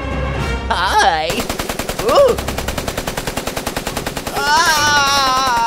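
Rapid machine-gun fire rattles in a steady, loud burst in a LEGO prison-break brickfilm, with whooshing effects and music around it.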